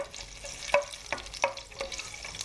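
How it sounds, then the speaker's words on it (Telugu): Chillies frying in hot oil for a stir-fried chicken dish, a light crackling sizzle broken by several quick stirring clinks, close and fairly quiet, with no speech. "ఆయిల్ హీటెక్కింది కదండి, ఇప్పుడు చిల్లీస్ వేసుకుందామండి. ఇవి కొంచెం ఫ్రై చేసుకుందామండి."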